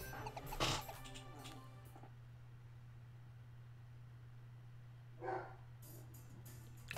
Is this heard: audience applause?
no